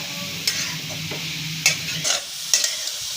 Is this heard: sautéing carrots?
yes